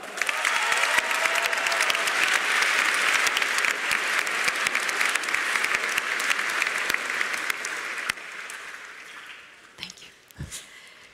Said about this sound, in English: a big round of applause for Carolina